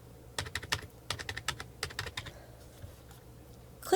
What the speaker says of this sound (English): you can simply type in their name or their university ID